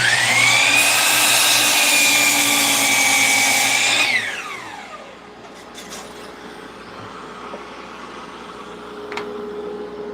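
A power saw squares up a block of wood, a loud steady whine with harmonics for about four seconds, then the blade winds down and fades into a quieter hum of shop noise.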